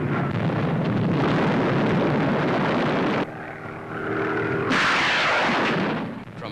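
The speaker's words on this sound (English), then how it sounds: "A P-47 Thunderbolt fires in slow motion." A WWII P-47 Thunderbolt fighter-bomber firing its guns, heard as a loud, sustained roar of gunfire and engine noise that drops briefly, then surges again with a rushing burst before fading.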